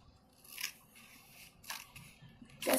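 Scissors snip through a paper plate to cut an antenna piece for a craft caterpillar, giving a few short crisp cuts close by, with a louder final snip at the end.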